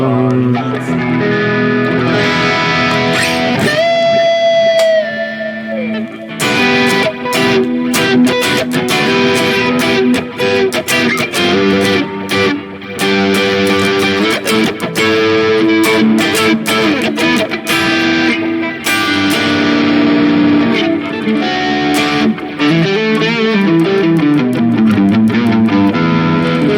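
An electric guitar, a Harley Benton Fusion 3 HH FR through a Marshall amp model on a Valeton GP-200, plays busy lead lines with a lightly overdriven, edge-of-breakup tone, notes ringing and bending continuously throughout.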